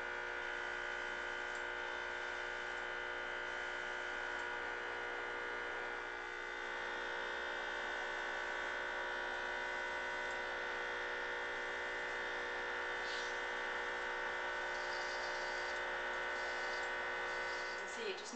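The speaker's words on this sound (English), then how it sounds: "I'm now going to airbrush Katie's skin just for a flawless finish for camera" Makeup airbrush spraying foundation onto skin, heard as a steady, even electric hum with a high whining buzz that runs unbroken and fairly quiet throughout.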